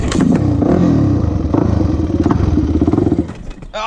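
A Yamaha YZ400F dirt bike engine sputters and churns loudly up close as someone tries to start it, a rough rhythmic thumping crank that fades out near the end.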